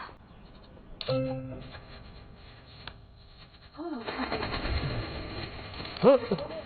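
Pigeons coo softly at close range, with a few low rolling calls rising over light rustling and background noise.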